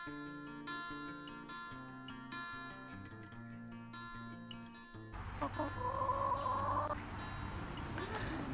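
A few seconds of tonal, music-like sound give way to chickens clucking and squawking close by, busy and overlapping.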